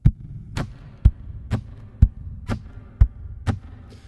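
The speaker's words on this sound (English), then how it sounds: "How I do some like drum" Percussive taps on a guitar body, used as a drum sound for a looping session with a BOSS RC-1 loop pedal; eight thumping hits at a steady pulse about half a second apart, alternating deeper and brighter strikes, close and alone.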